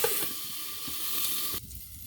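Cauliflower and mixed vegetables sizzle steadily in a hot pan for a Bengali cauliflower stem curry, a close, continuous hiss that drops in level near the end.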